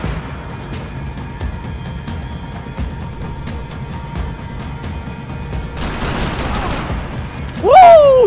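Gunfire in the video game Max Payne 3, with a string of soft, evenly spaced shots over a low rumble, then a louder burst near the end followed by a short tonal sweep.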